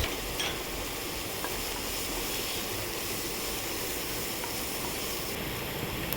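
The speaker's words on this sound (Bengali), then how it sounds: "পেঁয়াজটাও ভাজা হয়ে গেছে" Chopped onion sizzles steadily in hot oil over bay leaves and fried cumin while dahi paneer is being cooked, a dense, even frying hiss that runs unbroken throughout with no voices.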